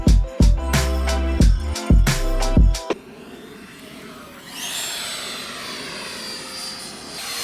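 Engine of a 3D-printed RC VTOL jet model spools and roars steadily at close range, with rising whine and shifting pitch after a pulsing start.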